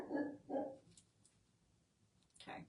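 A dog named Daisy barks twice in quick succession, fairly faint and off at a distance, followed by a quiet pause and a third bark at the end.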